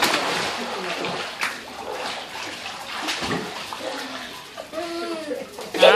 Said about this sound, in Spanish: Trata de no mojar para allá porque estás salpicando.